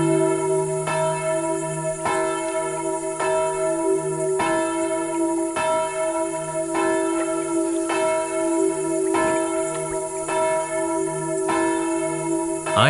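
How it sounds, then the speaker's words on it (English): A long-silent church bell rings out loud and near, with regular heavy strokes about once a second and a rich humming resonance that sustains between each strike. "I heard it. We all heard it. The bell is back."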